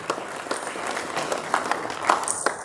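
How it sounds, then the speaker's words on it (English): An audience at a formal launch event gives a round of applause, a steady dense patter of clapping at moderate distance with a few sharper, closer claps standing out. "Ladies and gentlemen, a round of applause once again for Mr."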